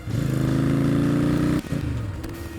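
Engine of a 1980 Moto Morini GTS motorcycle, recently rejetted after running too rich, putters at a steady idle with an even pulsing beat for about a second and a half, then briefly drops and picks back up, heard close and alone.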